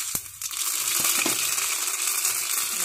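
Mustard seeds crackle and sizzle in two tablespoons of hot oil for a tadka, a dense, steady frying hiss with a few sharp pops near the start, close and continuous.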